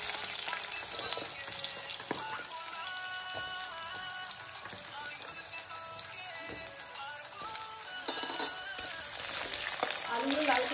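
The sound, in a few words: potatoes frying and sizzling in a pan with dried chillies and bay leaf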